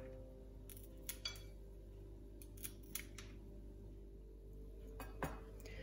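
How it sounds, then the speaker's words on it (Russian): Asparagus green beans having their stem ends snipped off in a kitchen, a few quiet crisp snips and clicks at irregular intervals over a steady low background hum. "Пока овощи тушатся, займемся спаржевой фасолью. С нее обязательно срезаем вот такие хвостики."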